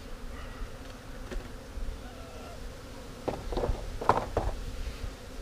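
Honeybees buzzing around a frame during removal from behind a brick wall, a soft continuous hum with several louder close buzzing passes and light taps near the end.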